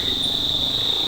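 Steady, continuous cricket chirping outdoors, a bright sustained trill filling the whole moment at moderate loudness with faint low background rumble.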